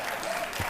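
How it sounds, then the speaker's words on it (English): Short burst of studio audience applause on a daytime talk show, dense clapping that runs for under a second with a low thump near the end. "Cue the clapping parents."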